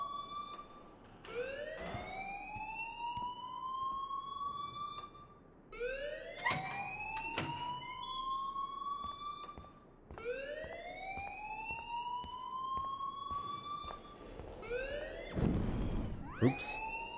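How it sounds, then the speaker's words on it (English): A school alarm wails in Life Is Strange, loud rising siren sweeps that repeat every few seconds with sharp clanks and a burst of noise near the end, no talking. "please turn off that alarm since that's your job"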